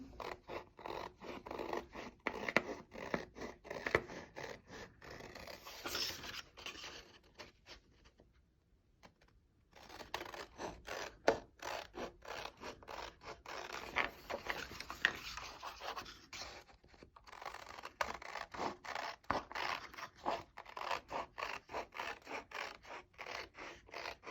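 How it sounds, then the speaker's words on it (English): Scissors snip through paper card in rapid, faint repeated cuts, cutting out a larger rectangle for a butterfly pop-up card, with one short quiet pause midway. "you're going to cut out the larger rectangle"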